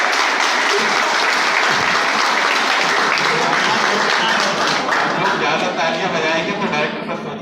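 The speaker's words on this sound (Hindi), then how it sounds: "ज्यादा तालियां बजाएं" A large college crowd claps loudly and continuously at a poetry recital at Bansal College of Engineering. Scattered voices and shouts sit within the applause, which thins slightly toward the end.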